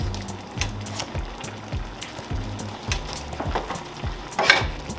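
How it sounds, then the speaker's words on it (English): Mushroom and pea risotto with cream and Parmesan stirred in a pan, a low bubbling simmer with soft rhythmic spoon scrapes and occasional clicks against the pot, close and fairly quiet. "And now we're just going to mix this up."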